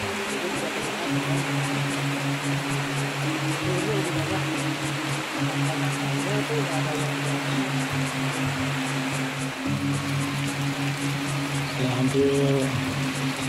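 Steady rain hisses down at a waterfall with rushing water beneath it, while a low mechanical hum drones in the background.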